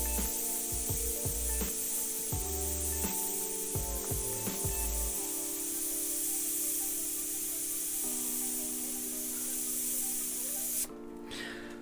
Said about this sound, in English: rattle cans are really handy to just have around, aren't they?